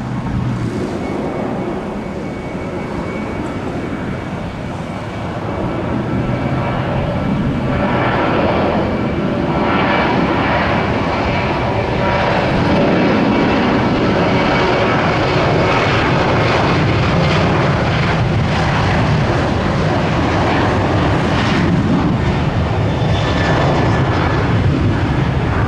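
A Boeing 737-800 jet sits on the runway at Tampa airport, its engines giving a loud, steady roar that holds for the whole stretch with a broadband rumble and faint whine.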